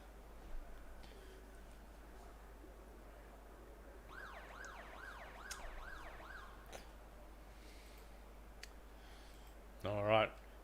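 Sirens blare at Sandown International Raceway as the ASR Summer Series race session begins, a rising and falling wail in the middle of the clip over steady background hum, followed by a brief sharp burst near the end.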